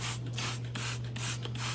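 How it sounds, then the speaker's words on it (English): Leak test solution is sprayed onto a truck evaporator core in short repeated hissing bursts, about six in under two seconds, over a steady low mechanical hum. "She go around and spray this old girl down, make sure she's not leaking anywhere."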